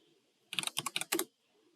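Several quick, close keystrokes clatter on a computer keyboard in a short burst, crisp and distinct against a quiet room.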